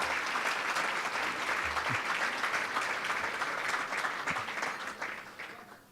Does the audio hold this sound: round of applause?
yes